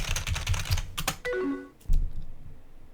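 Keyboard typing in the video game Emily Is Away, a quick run of close clicks followed by a short falling chime and one final thump.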